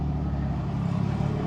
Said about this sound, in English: I'm going to wait for this really loud truck to go by me in a second.